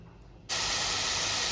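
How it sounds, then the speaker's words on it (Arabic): Half a kilo of meat searing in oil in a pot over a fire: a sudden, loud, steady sizzle bursts in after a brief, quieter moment and holds without a break. "دلوقتي بقى حطينا اللحمه على النار زي ما انتم شايفين كده"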